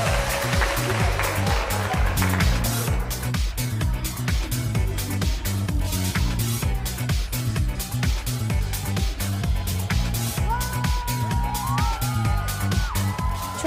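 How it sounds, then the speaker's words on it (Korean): Applause and scattered cheers rise from an audience before an amateur K-pop dance performance, blending with loud, rhythmic pop music that pulses underneath throughout. "큰 박수 쳐주시고요"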